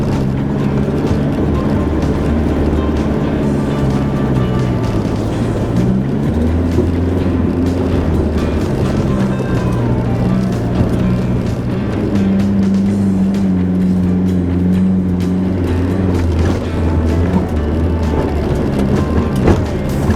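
4WD vehicle crawling in low range over a bumpy rocky track in the Victorian High Country at Wonnangatta, its engine a steady loud drone with shifting pitch and constant rumbling from the terrain.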